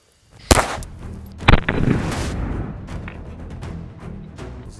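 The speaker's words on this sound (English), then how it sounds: "We're gonna be shooting the side of the helmet now to get like actual impact on the" Two sharp, loud .22 rifle shots a second apart strike the side of a 6B47 aramid military helmet, each crack followed by a brief ringing decay outdoors, with no talking.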